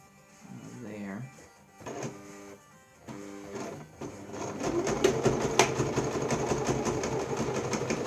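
A sewing machine stitching a craft seam starts and stops in short mechanical runs, then settles into a steady, moderately loud whirr, with a voice talking at the start.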